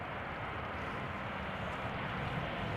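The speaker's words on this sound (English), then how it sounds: "Air Canada flight 808, the Boeing 7878 Dreamliner" Air Canada Boeing 787 Dreamliner coming in to land from Toronto at Amsterdam Schiphol gives a broad, steady jet roar, loud and unbroken, with some wind noise.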